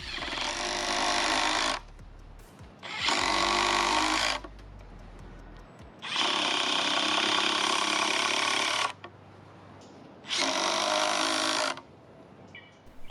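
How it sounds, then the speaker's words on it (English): A power screwdriver drives #10 x 1-1/4 inch Simpson SDS screws into 4x4 posts at a post base, four loud whirring bursts of two to three seconds each separated by short pauses. "Let's see how it drives some number 10 by 1 1/4 inch Simpson SDS screws"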